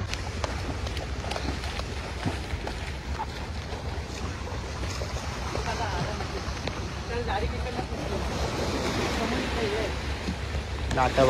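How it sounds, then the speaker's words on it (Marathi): Sea waves surging and washing steadily at the Gateway waterfront on a rainy evening, a continuous broad rush mixed with wind noise and boat sounds, with voices talking over it throughout. "लाटा बघा कशा आहेत बघा"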